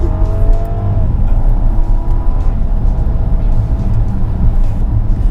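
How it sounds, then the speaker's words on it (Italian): Rolls Royce Phantom engine under full throttle, a steady, deep, rising drone heard from inside the car, loud and continuous with no speech over it. "proviamo ad affondare un'altra volta sul pedale del gas"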